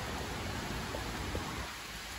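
Continuous rain patters in a smooth, even hiss, fairly quiet, with a couple of faint drips standing out and no speech.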